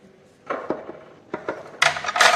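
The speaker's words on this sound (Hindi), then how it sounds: "इन सब चीज़ों को अच्छे से चिकन में मिक्स करना है।" Hands work chaat masala, ghee and spices into raw chicken in a bowl, giving soft wet squishing and rubbing with occasional clinks, ending in brighter scraping swishes.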